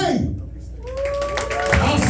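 A comedy club audience claps for a comedian, with a steady wash of clapping running through the whole stretch and swelling near the end, mixed with crowd noise and a faint whistle-like tone.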